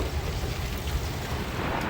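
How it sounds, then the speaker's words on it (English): Low rumbling roar of thunder mixed with steady wind and rain noise during a windstorm in Fort Worth, Texas, a broad continuous wash of sound with no speech. "You can hear the thunder."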